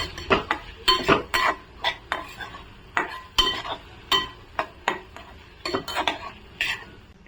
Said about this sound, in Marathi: छान असे आता मसाले आपण मिक्स करून घेऊया।